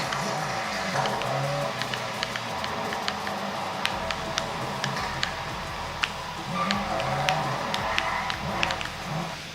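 Engine hum and tire noise from a car driven in a video game running on a 2020 MacBook Pro with a 5600M HBM2 graphics card, steady and moderately loud, with scattered sharp ticks and clicks throughout.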